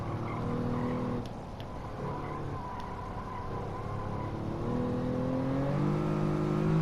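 Hyundai Genesis 3.8 engine in Gran Turismo 7 revving and dropping through gears as it downshifts to second, steady and fairly loud with rising and falling engine tones, no talking.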